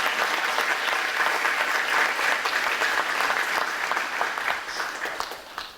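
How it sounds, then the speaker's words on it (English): A dense wash of applause from a seated crowd at a school district recognition ceremony, steady and full for several seconds before tapering off at the end. "So let's give Helen a round of applause,"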